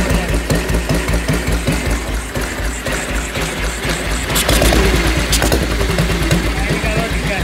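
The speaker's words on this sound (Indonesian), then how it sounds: "Nah ini suara knalpotnya." A 1952 BSA 350cc motorcycle exhaust putters at a steady idle, close and loud, its low regular pulses running throughout with a brief sharper burst near the middle; a voice talks over it.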